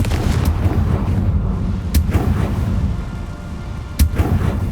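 Explosions from the Confringo fire spell in the video game Hogwarts Legacy: two sharp booming blasts about two seconds apart over a dense rumbling battle din, loud and close.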